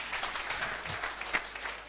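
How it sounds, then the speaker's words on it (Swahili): Brief burst of audience applause at a pastors' fellowship church gathering, scattered hand clapping under a faint hum, dying away quickly. "Give them a hand clap."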